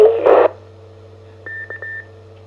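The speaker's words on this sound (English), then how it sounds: "They've taken the repeater over. Morse code, over." An amateur radio repeater carries a short burst of static, then a few clipped Morse code tone beeps, clean and loud over a steady low hum.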